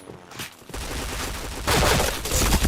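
Rapid gunfire in an online shooter match, bursts starting after a brief lull and growing louder and denser, with a sharper, heavier stretch near the end and no talk over it.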